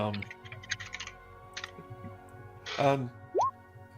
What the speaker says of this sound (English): we are hearing a lot of your keyboard and chair sounds.